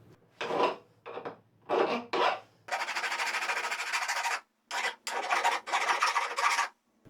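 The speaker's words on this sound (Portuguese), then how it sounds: "Agora com uma lima você consegue fazer um acabamento aqui na ponta dela para ela entrar mais fácil na porca." Hand file rasping across the tip of a wooden part to ease it into a nut, in a string of short strokes followed by longer, steady scraping passes, close and fairly quiet.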